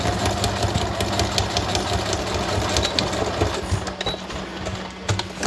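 A sewing machine runs steadily in a home workspace, a close, continuous mechanical whir with rapid needle ticking and small surges in speed.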